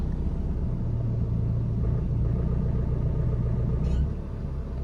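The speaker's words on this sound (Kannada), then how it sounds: "ಇದು ಈಗ ಫುಲ್ ಕ್ಲಚ್ ತುಳಿದಿದ್ದೀನಿ, ಸಾಫ್ಟ್ ಸೌಂಡು." A car engine idles with the clutch pedal pressed fully down, a soft, even low rumble heard from inside the car that dips slightly near the end, with no voices.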